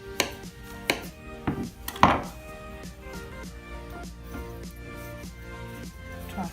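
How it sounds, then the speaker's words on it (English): A knife slicing a banana thinly on a board, with a few sharp taps early on and then a steady run of soft, even cuts close by. "Just going to slice it rather thin."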